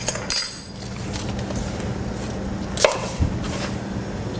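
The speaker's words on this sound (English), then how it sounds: "just do a rough chop on those" Green onion being roughly chopped with a knife on a board, a few scattered close taps and one or two sharper knocks over low kitchen background noise, no talking.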